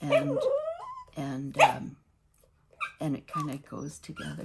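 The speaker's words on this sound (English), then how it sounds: "that's my dog crying to get up" A dog wearing a cone whimpers and yips in short bursts with a brief gap between them, close and clear, while a person talks over it.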